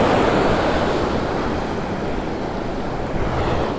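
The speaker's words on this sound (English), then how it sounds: "Waves are breaking where I want them" Ocean surf breaks and washes onto a beach where seaweed drifts at outgoing high tide, a loud, continuous roar with wind buffeting the microphone and no talking.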